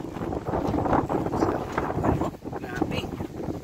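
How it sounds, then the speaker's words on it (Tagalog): Strong typhoon wind gusts roar and buffet a rural farm area in the Philippines, a dense continuous blustering rush rising and falling in waves. "Grabe lakas ng hangin mga Lodi"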